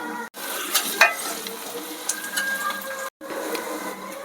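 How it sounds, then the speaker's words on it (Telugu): Green chillies and onions frying in oil in a pan for a prawn and tamarind-leaf curry, a steady close sizzle with occasional stirring clatter and two brief dropouts. "ఇప్పుడైతే ముందుగా ఆయిల్ వేసుకున్న తర్వాత పచ్చిమిర్చి ఆనియన్స్ కూడా వేసి వేయించుకుంటున్నాను."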